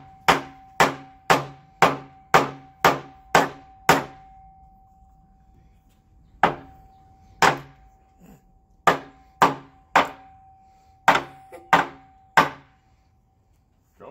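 A hammer drives nails into wood in sharp, ringing strikes, first a quick run of about eight even blows, then a pause and further irregular groups of hits, close and clear with a faint metallic ring.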